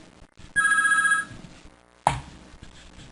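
A telephone rings once in a bright, harmonic electronic trill lasting under a second, followed by a sharp click as the handset is picked up, then quiet room noise.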